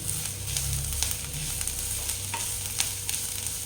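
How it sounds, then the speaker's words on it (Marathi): Momo filling for paneer momos sautéed in a pan over a high flame: a steady close sizzle with intermittent scraping strokes of a stirring spoon throughout. "इथे हे सगळं आपल्याला अगदी हाय फ्लेमवरती परतून घ्यायचं आहे"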